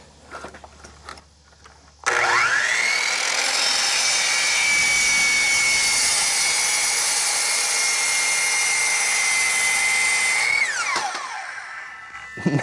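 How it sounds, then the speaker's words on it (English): A 10-inch compound miter saw spins up with a sudden loud whine, bites steadily through a large 4x4 wood block for about eight seconds at an even roar, then winds down; it runs alone, without talk. "A 10-inch compound miter saw, a huge 4x4 block of wood. Let's bury it in it."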